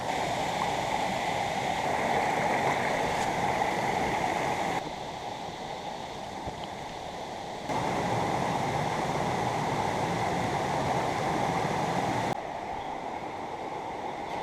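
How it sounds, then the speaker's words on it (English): Red Creek in the Monongahela National Forest's Dolly Sods Wilderness, a steady broadband rush of flowing stream water, loud and continuous at a crossing point in the rain, with no talk over it. "Getting ready to do the stream crossing here. This is Red Creek."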